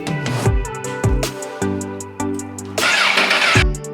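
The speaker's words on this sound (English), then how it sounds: "So listen to this engine when you crank it over." A 2006 Honda CBR1000RR motorcycle engine cranks over repeatedly, each turn a rising whine followed by rough chugging, with a loud burst of noise partway through.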